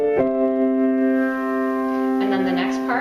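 A piano chord sounds with a single G held in the left hand, ringing steadily for a few seconds before a second soft attack near the end, close and moderately loud.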